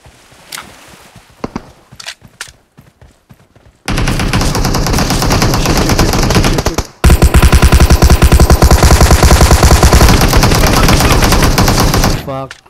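AK rifle fire in PUBG Mobile on the Erangel map rips out in loud, sustained automatic bursts. Sparse footsteps and movement come first, then dense, continuous rattling with one brief gap, and no one speaks during it.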